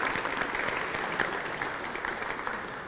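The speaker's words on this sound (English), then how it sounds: "give a little round of applause for the cooks and the people who have been serving our food tonight" A room of diners at a Rotary sports awards dinner gives a steady, even round of applause for the cooks and serving staff, a dense wash of many hands clapping throughout.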